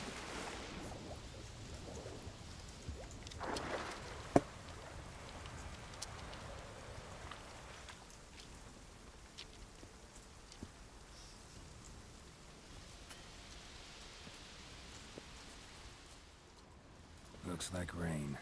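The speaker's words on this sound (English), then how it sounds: "Looks like rain." Quiet, steady video game rainfall hisses in the background, with a few scattered soft clicks and taps, growing slightly louder near the end.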